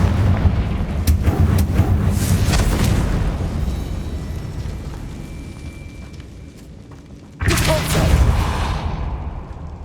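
Explosions from the Confringo spell in Hogwarts Legacy, set in the Feldcroft Catacomb dungeon: heavy booming blasts and rumbling debris at the start, decaying over several seconds, then a second sharp loud burst near the end.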